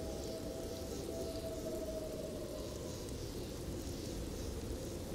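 Steady rain and wind in the video game Rust, a faint, even hiss of rainfall with a soft whistling gust running throughout, no talking.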